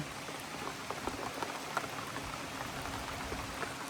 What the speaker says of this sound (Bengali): দেখেন গুড়ি গুড়ি বৃষ্টি পড়তেছে